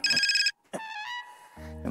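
A phone ringtone plays a short electronic melody, breaks off, then chimes again in bright repeating tones, close and clear.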